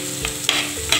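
Onions being stirred in a hot pan of oil with already-popped mustard seeds and chilies for a home-cooked mulakushyam curry with dal and snake gourd: a brief, close burst of sizzling frying with a few scraping stirs.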